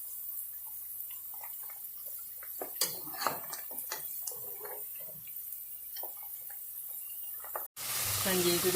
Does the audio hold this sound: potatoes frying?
yes